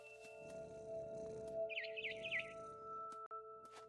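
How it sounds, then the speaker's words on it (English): A barn swallow in the game What Remains of Edith Finch lets out a quick series of three or four bright, high chirps over a low ambient hum, with faint clicks around it and no speech. "It was a barn swallow going back to her nest."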